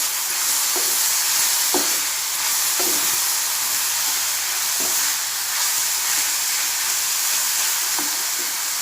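Finely chopped tomato fries with onion in a pan, giving a loud, steady sizzle and hiss throughout, broken by faint periodic scrapes of stirring and no voices.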